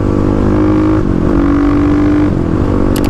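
A Kawasaki KLX351 thumper single-cylinder motorcycle engine runs loud and close for about three seconds, with a steady throbbing drone and a couple of pitch shifts as the throttle is blipped. No one speaks.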